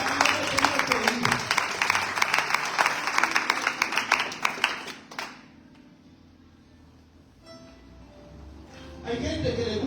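Congregation applauding in a church service, a dense wash of clapping with shouts of voices for about five seconds before dropping to quiet room sound, then murmuring returns.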